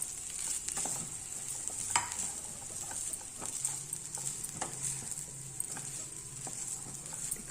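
Spoon stirring cooked rice into a capsicum masala mixture in a pan: steady scraping and soft patter over a faint continuous sizzle, near and moderately quiet, no voices.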